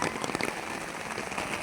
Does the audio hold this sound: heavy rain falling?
yes